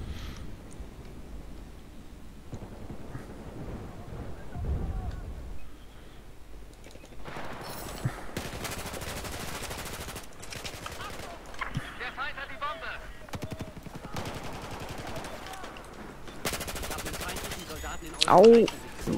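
Gunfire in the first-person shooter Battlefield 4 during a multiplayer match, bursts of automatic fire in several loud stretches amid steady game noise, with players talking softly underneath.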